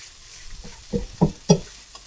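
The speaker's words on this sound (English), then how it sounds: "And then I'm going to mix that up really well, and I'm only going to keep cooking it until the liquid from the soy sauce is gone." Tofu scramble with soy sauce stirred in a pan, a spatula scraping through it in three distinct strokes over a light background sizzle, close and moderately loud.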